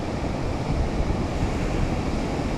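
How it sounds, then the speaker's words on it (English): Ocean surf rolls steadily onto a beach on a bright day where anglers fish, a dense, continuous wash of breaking waves mixed with wind rush, loud and close with no voices. "I hear the ocean."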